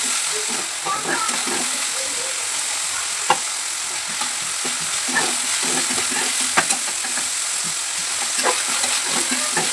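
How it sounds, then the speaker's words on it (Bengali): Meat cooks in a hot pan with a steady sizzling hiss while a utensil stirs and scrapes it at intervals, knocking against the pan now and then. A voice speaks in the background at times. "বড় ছেলের জন্য অল্প একটু মাংস রান্না করছি"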